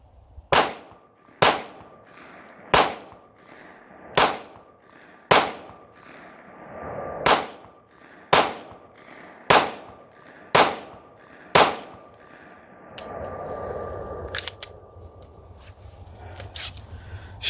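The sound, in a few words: gunshots fired from BRG9 Elite pistol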